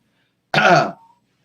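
A single short, rough throat clearing, close and fairly loud, lasting about half a second before silence.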